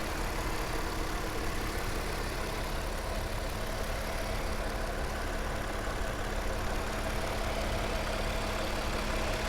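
A stock 2016 Audi A7 Quattro Prestige with a supercharged 3-liter V6 idles steadily, a smooth low hum holding an even level throughout with no other sounds.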